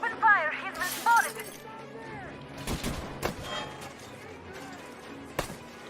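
A few sharp gunshots and cracks ring out in Metro Exodus, scattered over several seconds at moderate distance, while voices talk and other game sounds play underneath.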